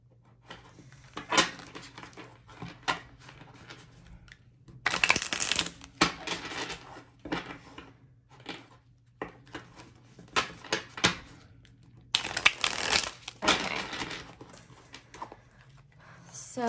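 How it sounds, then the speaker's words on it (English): A deck of tarot cards is shuffled in close, crisp bursts of riffling and flicking, with two longer dense shuffles between lighter taps and card handling at a quiet table. "Just get a few good shuffles in there."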